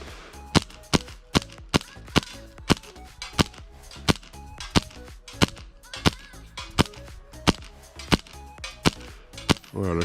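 Fully upgraded custom Hi-Capa airsoft pistol firing outdoors, a steady series of around twenty sharp snapping shots spaced roughly half a second apart, loud and close.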